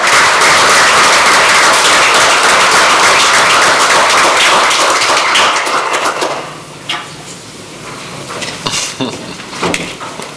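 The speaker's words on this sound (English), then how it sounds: "Could we give them a big round of applause?" A council meeting audience in a city chamber claps together in a loud, dense burst of applause that thins out after about six seconds into scattered, fading claps.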